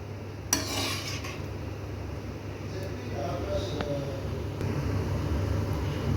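A spoon scrapes and clinks against a pot as mango sambar with lentils and vegetables is stirred, with a soft steady simmering hiss underneath.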